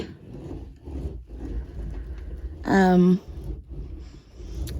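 A tumbler rolled by hand gives off a short, loud squeak with a rising whine lasting about half a second, standing out from a background of steady rubbing and low rumble.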